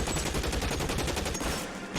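Rapid gunfire from the video game L.A. Noire, a dense burst of repeated shots that fills most of two seconds before tapering off at the end, with no talk over it.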